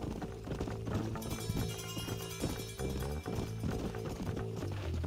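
Horses clip-clop steadily along in the Red Dead Redemption video game, a brisk rhythmic hoof beat buried under dense game music and ambient sound, continuous throughout.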